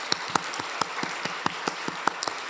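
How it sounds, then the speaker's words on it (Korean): Church congregation clapping during a Sunday worship service, with sparse, rhythmic individual claps at a steady beat over a soft background wash. "자, 인사하실 때 격려의 박수를 해주시기 바랍니다."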